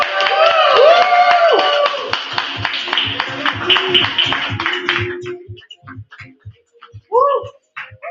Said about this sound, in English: Clap to Lucy